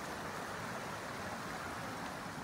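A stream flows past a campsite outside Hanoi, a steady, unbroken rush of water heard fairly faintly from nearby, with no voices over it.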